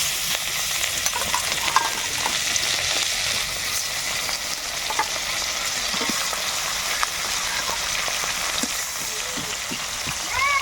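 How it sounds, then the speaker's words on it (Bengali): Tilapia fish fries in hot mustard oil in a home kitchen, giving a continuous close sizzle with small scattered pops and crackles that stays steady throughout. "প্রথমেই মাছটা ভেজে নেব তেল গরম হয়ে গেছে"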